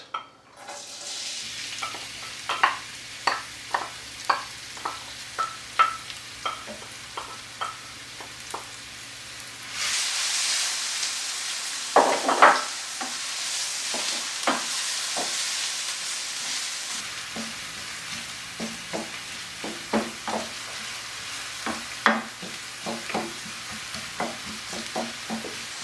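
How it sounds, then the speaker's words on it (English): Onions sauté in grapeseed oil in a hot pan, a steady sizzle punctuated by repeated sharp scrapes and taps of a utensil stirring, with a brief louder hiss burst partway through. "Now we're going to add our onions and saute them until they're soft"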